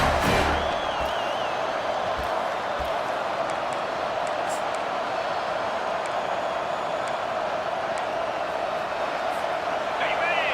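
Steady stadium crowd roar fills a college football video game broadcast on a fourth-down play, a dense continuous wash of noise with scattered whoops and shouts, loud and unbroken throughout.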